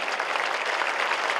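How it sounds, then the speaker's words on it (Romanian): A concert audience at an autumn symphony gala claps in a steady, dense wash of applause that holds evenly throughout, with no voices. "Vă rog frumos să-l aplaudăm pe Ciprian."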